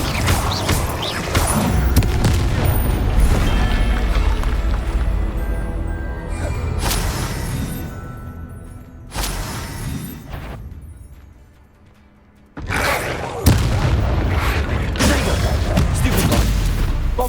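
Spell blasts in Hogwarts Legacy, fire and explosion spells cast in quick succession: a string of loud booming bursts and whooshes over a dense game soundtrack, with a brief lull before the blasts resume.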